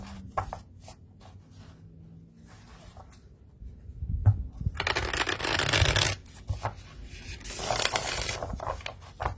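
A deck of Panorama tarot cards being shuffled, with soft riffling and rubbing at first, then two loud close bursts of riffled cards bouncing together.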